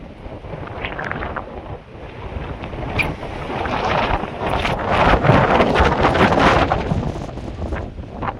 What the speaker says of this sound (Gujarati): ફૂલ પવન ચાલુ.